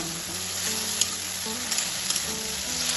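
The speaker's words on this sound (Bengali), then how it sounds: "এটা তেলের সাথে ভালোভাবে একটু ভেজে নেব" Chopped tomato and green chillies fry in hot oil, with no onion or garlic in the pan. A steady, close sizzle carries on throughout, with a few faint clicks of stirring.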